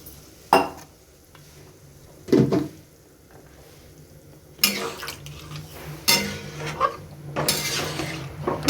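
Metal clanks and scrapes in a home kitchen as a pot of pumpkin greens is handled and covered with a lid, a few sharp knocks spaced apart, then a busier run of clatter at close range.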